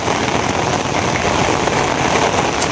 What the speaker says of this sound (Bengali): বৃষ্টিটার কোনো আগা মাথা পাইতেছে না। এই থামছে, এই আবার বাড়তেছে,